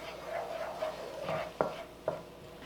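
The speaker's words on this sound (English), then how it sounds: "So we just want to saute this for a bit" Green onions sauté in a pan under a soft, fairly quiet sizzle, with a few distinct spatula clicks and scrapes spaced through it.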